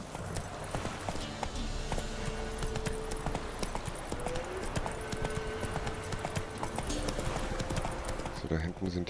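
Horse hooves from The Witcher 3 clip-clop at a steady, rapid gallop rhythm, continuous and fairly loud throughout, with a brief change in the final moment.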